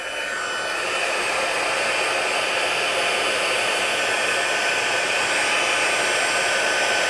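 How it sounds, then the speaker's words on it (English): A heat embossing tool blows hot air steadily over embossing powder on watercolor paper, a loud, continuous close-up whoosh like a hair dryer that runs unbroken for the whole stretch with no talking. "Now we're going to set that with our embossing tool."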